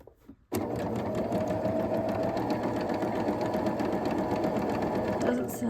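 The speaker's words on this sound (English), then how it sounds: "I'm going to put this on my red line, and I'm going to sew on this line" A domestic sewing machine runs steadily stitching a quilt block seam along a marked line, a continuous close, loud whirring drone after a brief quiet start, with no pauses.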